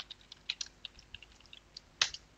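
Quiet, scattered clicks of a computer keyboard as a password is typed at a workstation during login, a dozen soft taps with one sharper keystroke near the end.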